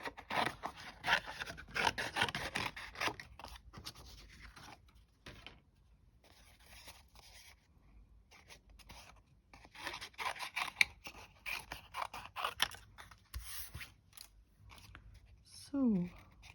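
Small scissors snipping and rasping through stamped paper while fussy cutting a little character for a journal, close and steady, with soft handling noises and a short squeak near the end.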